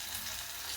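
Green chili and coriander paste frying in a pan, a steady close sizzle of paste in hot oil running evenly throughout with no talk.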